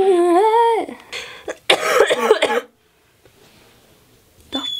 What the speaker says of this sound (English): I just coughed and it went on my chin.